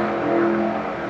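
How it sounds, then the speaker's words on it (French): Race cars circulating on the Daytona circuit, a steady loud engine roar with a sustained droning tone, heard briefly and continuously without any voices. "les voitures sur le circuit. Ça fait un bruit de dingue."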